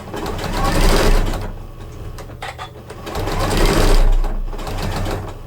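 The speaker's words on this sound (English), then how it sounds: "we're going to come back along there and stitch along" A Janome sewing machine stitching quilt binding whirs in two close, loud runs separated by a short pause.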